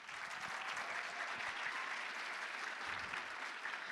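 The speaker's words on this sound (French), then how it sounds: "Et on peut les applaudir encore bien fort." An audience applauds at a group cosplay contest at Japan Impact 2025, a dense, steady round of clapping from a crowd that carries on throughout at moderate volume.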